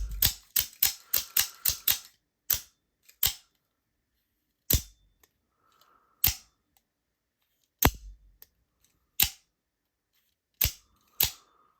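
An aluminum folding knife is opened and closed repeatedly, giving sharp, close mechanical snaps in a quick run of about eight, then spaced single clicks with pauses, alone without talk.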